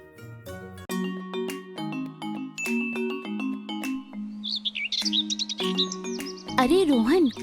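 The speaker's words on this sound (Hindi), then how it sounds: "ये बागीचा तो चिड़ियों की चहचहाट से गूंज रहा है।" Birds chirp in a garden where sparrows peck at grain: a few quick, high chirps rise over steady, melodic background music, faint and brief rather than a full chorus.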